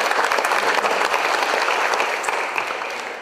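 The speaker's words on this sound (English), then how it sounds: "let's give a big applause to the committee" Dense applause from a dinner audience at an international book fair, a steady wash of many hands clapping close and loud, easing off slightly toward the end with no talk over it.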